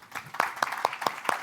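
A few separate hand claps, about five in a slow, steady rhythm, sound quietly from an audience at an EPPICon 2024 fireside chat on music, brain and health.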